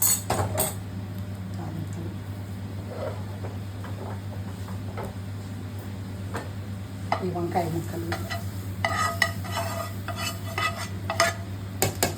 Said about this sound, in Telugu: వేసుకున్నామండి తాలింపు